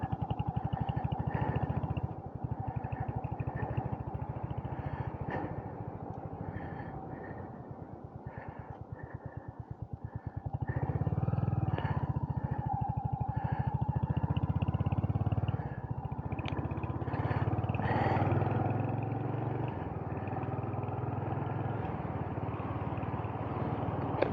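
A Royal Enfield HNTR350 motorcycle engine on a road ride in fifth gear, a steady low drone with a mild rise in intensity midway, continuous throughout with rushing wind noise and no speech.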